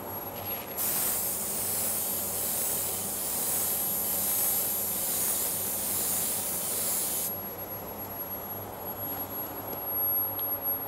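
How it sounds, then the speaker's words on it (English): A spray gun applying automotive primer at about 24 PSI hisses steadily in one long, close pass, the airy spray sound cutting out near the end while a low hum continues. "We were spraying when we did that at about 24 PSI."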